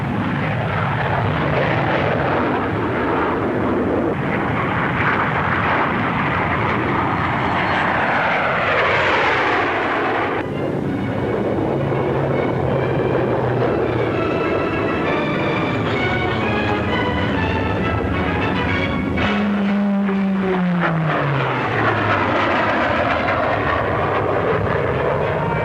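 Supermarine 508 naval jet fighter with a butterfly tail flying at Farnborough in 1950, a loud continuous engine roar with sweeping pitch changes as it passes, rising and falling several times throughout.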